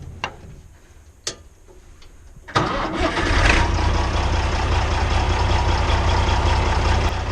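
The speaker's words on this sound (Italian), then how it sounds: "adesso accendo il trattore e andiamo a fare un giro in campo" A few clicks and ticks in quiet, then a Fiat 1300 DT Super tractor engine cranks and catches, settling into a loud, steady diesel rumble.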